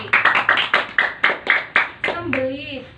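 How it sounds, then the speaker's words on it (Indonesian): A class of pupils claps in unison for a classmate in a primary school lesson, about ten sharp, evenly spaced claps close by, followed by a voice. "Beri tepuk tangan untuk Siti."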